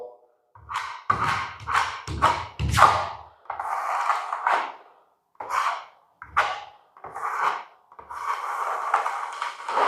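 Plastering trowel spreading joint compound over tape on a cracked ceiling: repeated close, wet scraping sweeps of a second or so each, some ending in soft thuds, with pauses between strokes and no talking.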